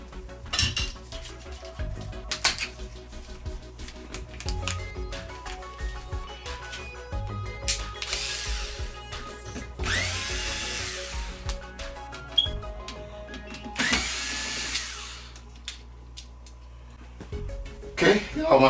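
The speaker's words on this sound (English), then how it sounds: "got all my screws out" A power screwdriver backs screws out of the rear panel of a 65-inch TCL 65S405 television that flashes its power light but shows no picture. It gives several short whirring bursts mixed with light metallic clinks of loose screws, close by.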